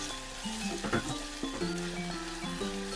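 Kasuri methi frying in hot oil within a spiced okra masala in a pan, a soft continuous sizzle with light stirring scrapes over a faint steady background tone.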